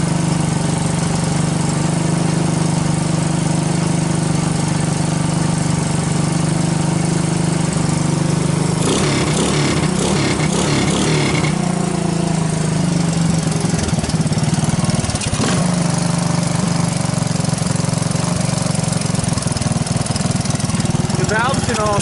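Small single-cylinder engine of a 1985 Honda ATC 200S three-wheeled ATV idling steadily up close, a loud continuous drone that briefly roughens and revs midway, with a person talking over it.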